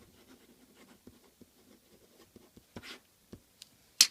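Handwritten notes on paper, a short run of soft pen or pencil scratches and taps in a quiet room, close and intermittent, ending in a sharper stroke.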